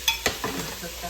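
Three tablespoons of garlic hit a hot soup pot, crackling briefly before a spoon stirs through it in a few quick scraping strokes, close and alone with no talk.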